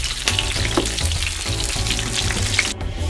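Oil spits and crackles in a hot pan as salmon fries, seasoned with pepper and onion powder, a dense close sizzle with sharp pops scattered throughout.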